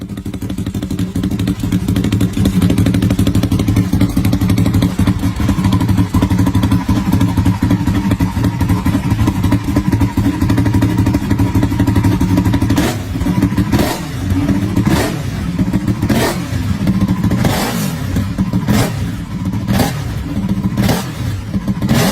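A Ducati 1299 Superleggera superbike engine idles with a loud, steady rumble, then gets blipped into repeated sharp revs against the rev limiter in quick succession, close by with no talking.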